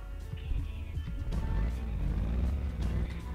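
A deep, burbling engine of an old Mercedes G-Class in a video game idles steadily nearby, a low rumbling throb with slight uneven pulses and no speech.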